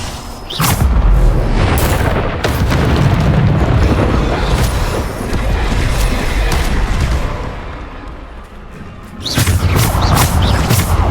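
A Bombarda blasting spell from a video game detonates in loud, deep booming explosions that roll and rumble for several seconds, with another sharp blast near the end.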